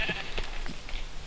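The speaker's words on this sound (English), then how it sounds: "Damn sheep." Sheep bleating in the Minecraft video game, a few short nasal bleats in quick succession over a faint steady background, with no talking.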